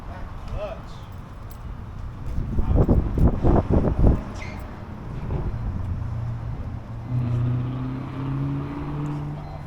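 A car in a performance garage is started with the ignition switch: a loud burst of rough cranking and firing, then a lower steady engine idle, while people talk nearby.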